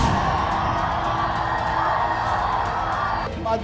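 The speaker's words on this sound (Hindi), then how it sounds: "माधवी के लिए सब लोग ताली बजाओ भाई।" A dense, steady roar of crowd cheering with whoops and yells for BJP candidate Madhvi Lata at a campaign gathering in Hyderabad, loud and continuous throughout, easing slightly near the end.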